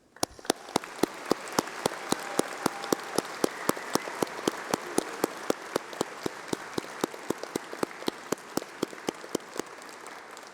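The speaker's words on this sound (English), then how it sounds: "let's have a round of applause for all those special people, your family, your friends, and your tutors" Audience applause at a university graduation ceremony: a large hall full of steady clapping, dense and even, with a few louder individual claps standing out near the microphone, fading slightly at the very end.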